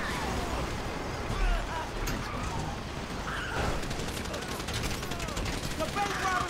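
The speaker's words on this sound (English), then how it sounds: "You hear that gunfire?" Gunfire in a Grand Theft Auto V gameplay session, a dense stream of shots and bursts running steadily under busy game noise throughout.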